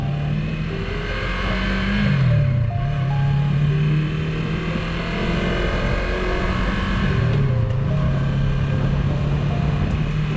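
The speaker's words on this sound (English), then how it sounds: "here's a little example of a takeoff and a shift up" A motorcycle pulls away on a street, its engine note rising under throttle, dropping briefly at a gear change and then climbing again in the next gear, close and fairly loud with no talking.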